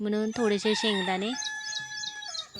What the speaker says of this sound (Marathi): बघा कोंबडा कसा ओरडतो आहे